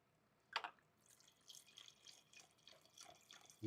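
Wine, a Syrah, is poured into a glass, a short liquid splash followed by soft trickling and dripping, quiet and close with no voices.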